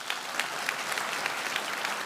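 Steady audience applause greets this year's Moon Prize winner, Dr. John Small, at a university ceremony. Dense, even clapping from a crowd continues throughout the short stretch.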